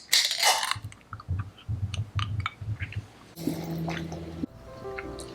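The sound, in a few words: Liquid Death sparkling water being opened and poured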